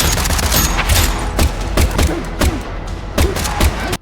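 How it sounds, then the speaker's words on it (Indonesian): Gunfire rings out in a gangster film scene set outside a hotel, a loud, close run of booming shots in a quick, irregular rhythm that stops abruptly after about four seconds. "Loreno mulai menembak"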